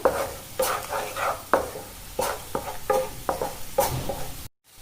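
Coriander paste being stirred in a frying pan for mint potato rice, a series of distinct close scraping strokes over a soft sizzle, each a second or so apart, ending abruptly.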